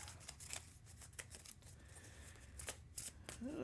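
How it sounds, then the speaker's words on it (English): Rapid papery riffling of cards being shuffled, a few quick bursts of flicking and snapping, close by with no talking. "3 other cards that need to shuffle up into our deck"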